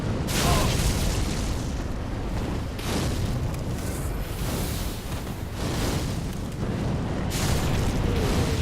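A pure fire spell explodes repeatedly in Dark Souls 3, producing loud, sustained rumbling bursts that surge and ebb in waves across the whole stretch.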